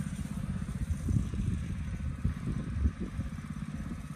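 A Coleman RT200 196cc mini bike engine revs steadily as it rides by, a throaty low-pitched drone with a rough, pulsing note that swells and eases without pause over a few seconds.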